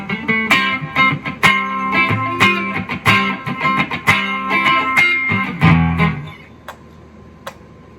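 Clean-toned Kramer VT-211S electric guitar on the neck pickup, a short run of picked notes and chords that rings for about six seconds, then fades to near silence with one faint tick.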